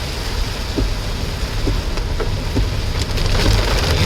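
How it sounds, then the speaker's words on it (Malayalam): Heavy rain drums on a car driving along a forest road between Palode and Trivandrum, a dense, loud, steady patter with scattered sharper drop hits and road rumble beneath, growing slightly heavier toward the end. "ഒരു രക്ഷയുമില്ല, അന്യായ മഴ."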